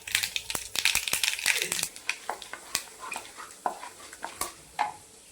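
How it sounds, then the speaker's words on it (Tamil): Mustard seeds and chana dal drop into hot oil in a pan, setting off sharp irregular popping and crackling bursts over a faint sizzle, close and fairly quiet. "எண்ணெய் காஞ்சிருச்சு, கடுகு போட்டுக்கலாம். கடலைப்பருப்பு போட்டுக்கலாம்."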